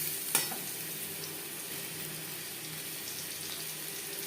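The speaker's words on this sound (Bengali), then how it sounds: "আলু হালকা করে ভেজে নেব" Potatoes frying lightly in oil in a pan, a steady close hiss and sizzle throughout with one brief utensil clack near the start, no talking.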